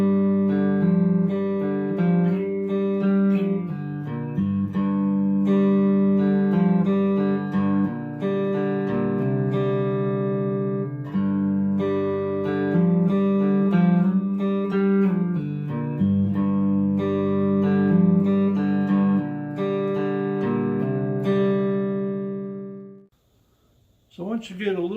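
Cigar box guitar plays a full riff of repeated strummed and picked notes, steady and loud, with no talking until a short noise at the very end.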